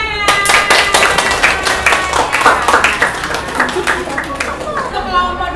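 A classroom of schoolchildren applauds a presenting group, loud dense clapping that goes on steadily for several seconds, with voices chattering underneath.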